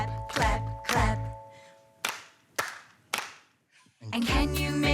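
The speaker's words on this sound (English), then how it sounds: "can you make your hands go clap, clap, clap?" Hands clapping three sharp, evenly spaced times in a children's music program, loud and close, with sung phrases before and after.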